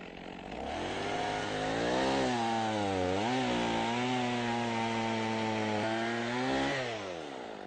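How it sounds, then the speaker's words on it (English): A chainsaw cutting firewood to length runs close and loud, its engine pitch dipping and rising as the blade bites into the wood and eases off, with no voices. "Let me show you how to use the chainsaw bar as a guide to measure the pieces so they all end up the same length."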